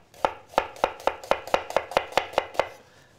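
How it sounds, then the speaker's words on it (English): Rapid, even knife chops through a halved onion on a cutting board, about ten crisp strikes in a steady rhythm, close and distinct with no talk. "When you cut an onion, again, you cut in half, and you go with the onion, you go far away, and again cut."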